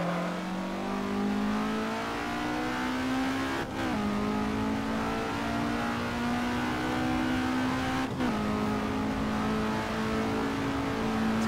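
Retro racing cars, a Lancia HF and an Alfa GTA, rev hard in Assetto Corsa, the engine pitch climbing steadily then dropping sharply at two gear shifts, loud and continuous.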